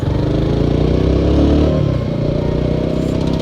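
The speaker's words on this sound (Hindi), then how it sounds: "मैं मज़े से मस्ती से अपने बाइक चलाता हुआ जाऊँ।" A Royal Enfield Guerrilla 450 motorcycle is ridden along a road, its engine humming steadily and loud from close by, with a slight swell in revs midway, and no one speaks.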